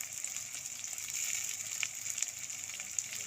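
Chopped onion and tomato frying in hot oil with cumin, a soft continuous sizzle and spatter, quiet and close, with no voice over it.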